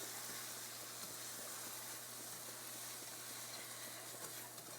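Breadcrumbs toasting in a pan until light brown, giving a steady, soft, even sizzle and hiss with a faint low hum underneath and no talk.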